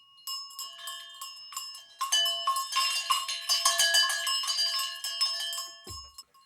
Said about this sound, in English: Animal bells.